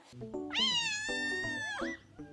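A young kitten gives one long, clear, high-pitched meow that rises and then bends downward, close and loud, set against soft background noise with no speech.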